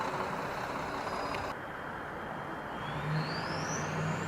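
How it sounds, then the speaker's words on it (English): Deuce bus on the Las Vegas Strip, heard as a steady, loud roar of street traffic and engine rumble. A rising mechanical whine builds near the end, with no voices. "So there's the bus that I took last night."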